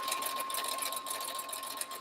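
A sewing machine stitches quilt pieces with a fast, even mechanical whir and patter, fairly faint and steady throughout with a slight hitch near the end, with no talking.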